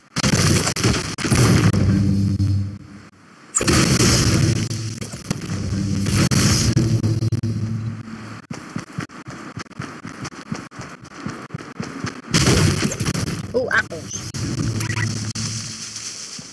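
Gunfire and explosions in a shooter video game, with bursts of rapid shots and heavy booms in loud clusters, separated by short pauses and rattling bursts.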